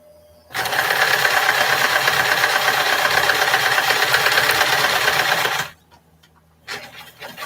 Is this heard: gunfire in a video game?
no